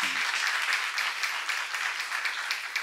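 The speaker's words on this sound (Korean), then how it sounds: "박수를 하세요." A church congregation applauds during a sermon, a steady and fairly close wash of many hands clapping that runs unbroken with no talking over it.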